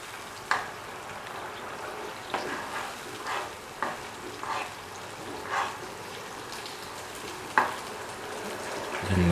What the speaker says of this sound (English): Now mix the ingredients that we sorted into the mixture.